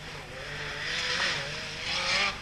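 A Renault 5 Turbo rally car with a small mid-rear turbocharged engine drives at the 1983 Rallye Monte-Carlo, its engine roaring steadily with rising revs and a hiss of tyres, fairly close.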